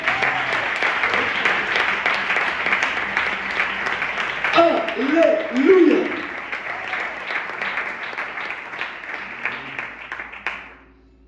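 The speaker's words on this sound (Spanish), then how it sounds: "El mejor aplauso que tengas para él." A church congregation gives loud, sustained applause and cheers while a voice shouts over it, the clapping rising midway and then cutting off sharply at the end.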